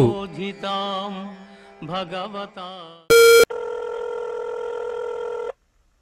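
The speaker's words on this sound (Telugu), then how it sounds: "రింగ్ అవుతుంది. రింగ్ అవుతున్నట్టుంది." Electronic phone tones ring out: a warbling melodic chirp, then a short loud beep and a long steady tone that cuts off.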